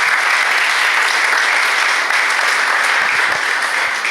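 Loud, dense applause fills a hall at a legal conference on comparative precedent in Panama, a continuous wash of clapping from a large audience holding steady for several seconds.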